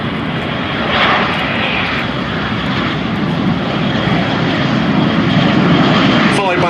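Two de Havilland Vampire jets, ex-Swiss Air Force, a two-seat T-55 followed by a single-seat FB-6 fighter-bomber, roll individually for takeoff at a Duxford airshow, producing a loud, steady broadband jet roar that swells slightly and holds throughout.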